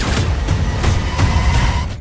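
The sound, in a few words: explosion in Arcane season 2 trailer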